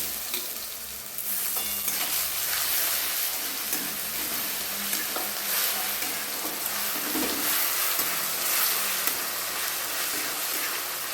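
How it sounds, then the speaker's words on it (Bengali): Garlic paste hits hot oil in a pan already holding Kashmiri chili, and a loud, steady sizzle and hiss carries on without a break from start to finish. Nobody speaks. "এবার আমি দিয়ে দিচ্ছি বেটে রাখা রসুনটা"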